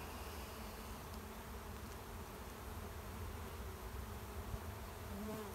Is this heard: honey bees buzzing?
yes